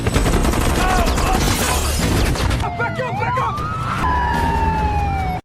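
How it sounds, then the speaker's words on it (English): Dense bursts of gunfire erupt as the FBI storms in with armored vehicles and air support during a movie raid, then give way to wailing sirens with a voice running over the din. "Gunfire erupts everywhere."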